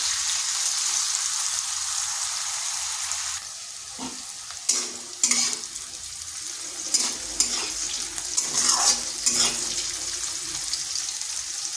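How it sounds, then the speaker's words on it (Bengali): Bitter gourd pieces fry over high heat in plenty of oil, a constant bright sizzle with several sharp bursts of spatula stirring and clatter against the pan, close and loud. "আঁচটা হাই আঁচে রেখে 2 থেকে 3 মিনিট করলাটাকে ভেজে নিচ্ছি"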